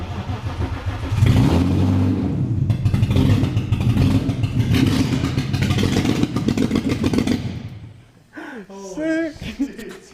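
The swapped engine in a BMW E36 drift build revs hard and loud through a series of throttle blips, then drops back to idle while people react with excited voices.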